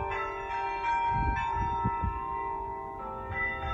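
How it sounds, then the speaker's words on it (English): Church bells ring out a melody near a university campus, with clear sustained tones and repeated strikes, plus some low rumbling background noise. "Today, the church bells rang a song of encouragement to Wake Forest University students."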